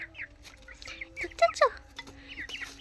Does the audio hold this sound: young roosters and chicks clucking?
yes